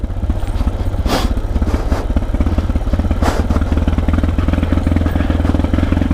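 Motorcycle engine running steadily nearby with a low throbbing rumble and some mechanical clatter, loud and constant throughout, with no talk.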